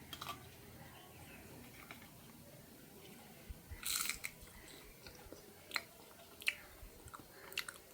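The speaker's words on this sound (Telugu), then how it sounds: "మరి ఇప్పుడైతే మిరపకాయలు టేస్ట్ చేసేద్దాం. మరి వేగిపోయినాయి కదా" Someone chews fried buttermilk chillies (majjiga mirapakayalu), making quiet, close mouth sounds with a handful of sharper crunches spaced irregularly over several seconds, without talking.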